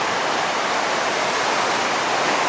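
Sea surf at the Surf City pier on the North Carolina coast after Hurricane Florence makes a steady, loud, broadband wash of noise that holds without breaks, with no voices.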